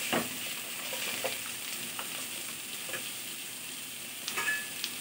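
Hilsa fish head frying in a pan and being stirred: a constant hissing sizzle with occasional soft scrapes and taps of the utensil, moderately loud and close.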